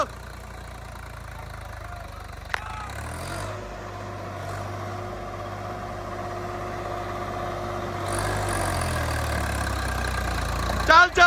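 A new tractor's engine runs at a steady idle, a low, even mechanical drone that holds for the whole stretch, with faint outdoor noise around it.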